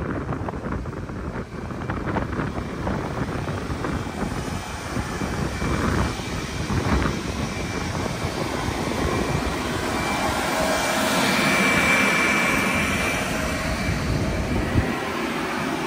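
A seed drill's turbine blower roars steadily during wheat sowing, a dense continuous whooshing drone heard from inside a tractor cab, swelling slightly in the middle with no voices.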